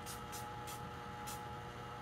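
A makeup setting spray is pumped onto a face in several short soft hissing bursts, four quick mists at an uneven rhythm, close and faint over a quiet room.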